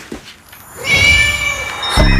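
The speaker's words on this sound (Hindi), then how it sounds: "ए बिल्ली मौसी, तुम तो मेरी मौसी से भी अच्छी हो" A cat gives a drawn-out, fairly loud meow at close range, with a short rising cry at the end and faint room noise before it.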